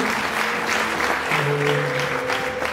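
Wedding guests applaud in a steady, dense patter that keeps going throughout, with sustained musical tones or voices humming underneath the clapping.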